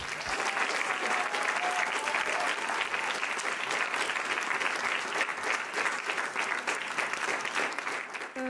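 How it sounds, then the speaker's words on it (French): An audience applauds a speaker being introduced at a stand-up show, steady sustained clapping filling the room for several seconds with no other sounds. "On va applaudir, s'il vous plaît, Claudine Van den Boom."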